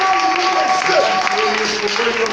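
A church congregation applauding and acclaiming the Lord, a dense wash of clapping and cheering voices from a crowd, loud and sustained over the short stretch.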